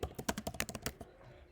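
Rapid typing on a computer keyboard while entering Python code, a quick run of about a dozen close, crisp key clacks that stop abruptly into quiet room tone.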